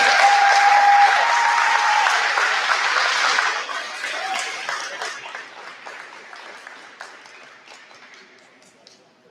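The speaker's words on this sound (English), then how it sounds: "Please give a round of applause to all of our royalty of the Fairy Tale Prom Court members this year." Audience applause ringing out at a Fairy Tale–themed prom coronation in a large venue, loud dense clapping at first that gradually thins and fades over several seconds.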